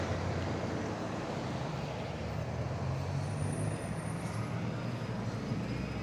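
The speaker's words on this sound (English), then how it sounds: "Lauderdale County School Bus." A Lauderdale County school bus rumbles past on a downtown street in Rogersville, Alabama, its steady engine drone loud and close with a low hum of traffic behind it throughout.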